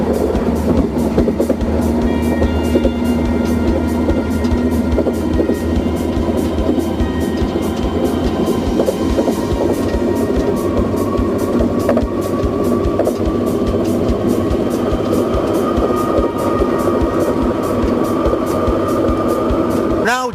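Riding the SkyTrain in Surrey, a constant loud rolling hum with low throbbing tones and regular rhythmic clicks of the rails, ending in a brief rising whine.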